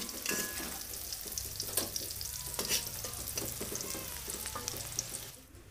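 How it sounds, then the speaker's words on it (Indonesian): Shallots frying in hot oil for nasi liwet, a steady close sizzle with repeated scraping and stirring clicks throughout, easing off at the very end. "setelah bawangnya aku goreng sampai wangi mau aku angkat dan tiriskan"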